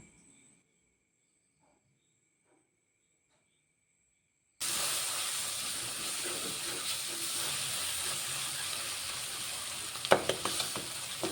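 After several seconds of near silence, vegetables drop into hot coconut oil and break into a loud, steady sizzle and hiss. A brief clatter of stirring comes near the end.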